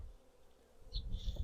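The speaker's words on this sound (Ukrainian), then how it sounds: "Бджола така активна, зла трохи ця бджола тут" Honeybees in a full hive make a low, steady drone with a higher whine rising midway, humming close by.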